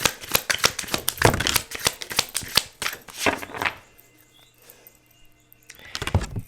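Tarot cards riffle and slap together in quick rapid bursts, close by, with a short quiet pause before another burst of shuffling.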